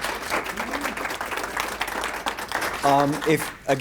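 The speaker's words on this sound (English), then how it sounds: "Round of applause for our panel." Applause from the audience at a video coaching panel discussion, a steady wash of clapping with a brief voice rising over it near the end.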